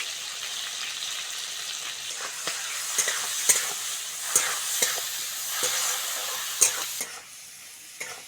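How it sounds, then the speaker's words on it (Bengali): Shrimp frying in a pan with turmeric, green chili and salt for a home-style Bengali dish: a constant oily sizzle and hiss, broken by sharp clinks and scrapes of stirring at irregular intervals, close and fairly loud. "চিংড়িটা ভালো করে ভেজে নিয়েছি"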